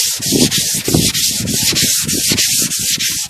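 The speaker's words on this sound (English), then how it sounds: "So you take your block and you sand over it." A sanding block rubs back and forth over car body filler during bodywork, a steady, close, rhythmic scraping with regular strokes and no talk.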